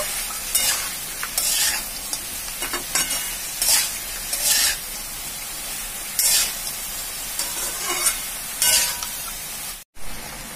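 Lentil bori and gathi taro are stirred in a frying pan, with a steady sizzle broken by repeated bright scraping bursts of the spatula at an uneven rhythm, close and alone without talk.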